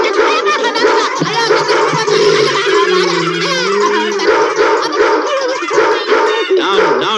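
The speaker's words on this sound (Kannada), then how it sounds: "ನಾಯಿ ಹೆಸರು ಬೋಸ." A dog barks and yips in a Kannada film scene, its calls repeating over a dense, busy mix of other sound that runs throughout.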